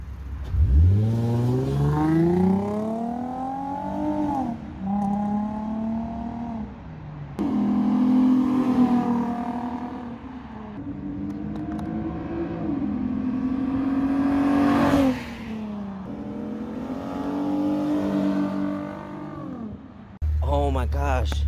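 Lexus IS sedan with a new aftermarket exhaust making repeated flybys, its engine revving up and fading in several loud passes, with people talking over it.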